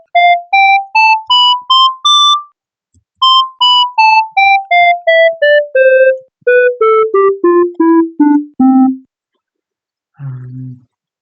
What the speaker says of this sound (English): set up a little instrument patch, and it sounds like this.